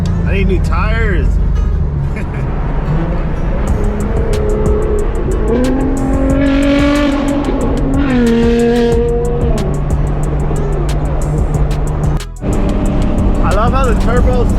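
A 700-horsepower turbocharged Infiniti G37 accelerating on a freeway, loud close engine roar rising through gears with turbo whistle and rising pitch sweeps, echoing off walls, with people talking over it.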